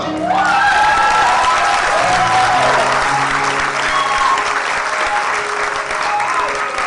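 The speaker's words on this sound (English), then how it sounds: "Let's give them another round of applause for this ministry Saturday." Sustained, loud applause from a crowd at the KuumbaFest 2014 community festival, with dense clapping running steadily throughout and high voices or whoops rising over it.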